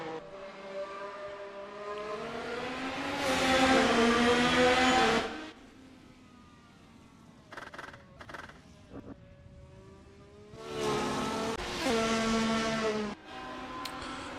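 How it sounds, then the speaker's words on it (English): Race cars scream around the Las Vegas track in a racing video game, engines rising and falling in pitch as they pass, loud and close, with a quieter gap before another car surges through. "Trent H coming down pit road. Approaching turn one, a hairpin corner, is Cody Lawrence showing us how it's done"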